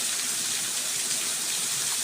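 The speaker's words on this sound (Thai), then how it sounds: "ประมาณนี้ละอันนี้น้ำตกนี่" A waterfall about ten metres high pours steadily into its pool, heard close up as a continuous, dense, hissing rush of falling water with no pauses or talk.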